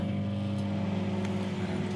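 Microwave oven running while cooking scrambled eggs, a steady close hum with strong low tonal lines, continuous and even throughout with no talk.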